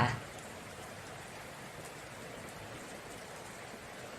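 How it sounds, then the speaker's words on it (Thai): Heavy rain pours steadily at night outside an office building, a dense, even hiss of downpour that holds at a constant level throughout. "ฝนตกหนักแบบนี้"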